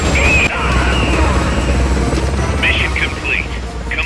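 A helicopter in the video game Metal Gear Solid Peace Walker HD idles with a loud, steady rotor and engine whir, and voices are heard over it.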